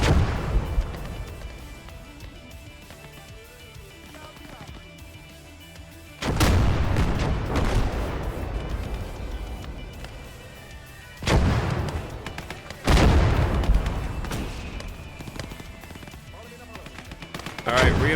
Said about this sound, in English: We need some mortar fire stat.